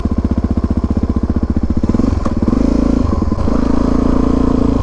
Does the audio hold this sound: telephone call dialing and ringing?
no